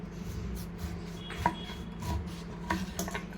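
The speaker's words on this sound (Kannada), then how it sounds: "ಈ ರೀತಿಯಾಗಿ ಕಟ್ ಮಾಡಿ ಇದರ ಸಿಪ್ಪೆ ಎಲ್ಲ ತೆಗಿಬೇಕು" Knife cutting and peeling raw jackfruit by hand, with oil on the hands, heard as soft scraping and rubbing strokes with a few sharper cuts, close and quiet with no talk.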